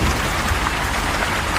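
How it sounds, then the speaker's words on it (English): Heavy rain keeps falling on Wanfeng Road in Fengtai District, Beijing, just after a hailstorm, a dense, close, constant patter of drops hitting surfaces with no voices. "After a few minutes, the hail stopped and only rain remained."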